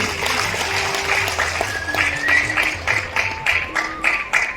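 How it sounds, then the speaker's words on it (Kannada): An audience at a Yakshagana festival in Dubai claps for a children's dance. The applause is moderate and fairly close, mixed with tonal sounds, and the separate claps grow sharper toward the end. "ಇದಕ್ಕೆ ಇನ್ನೊಂದು ಗಂಟೆ ಚಪ್ಪಾಳೆ ಅವರಿಗೆ ಕೊಡಬೇಕು ನೀವು"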